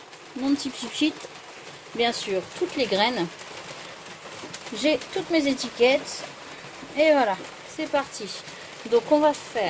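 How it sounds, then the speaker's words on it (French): Rain pattering steadily on a garden pergola in wet northern weather runs beneath close, continuous talk by a man preparing seed sowing with pots and a small greenhouse. "Désolé pour le bruit, hein, c'est la pluie qui tombe sur la pergola."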